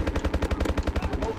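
Rapid hip-fire gunshots from a weapon in Call of Duty: Advanced Warfare, a fast, evenly spaced automatic stream of loud cracks, about a dozen shots in under a second and a half, with no talk over them.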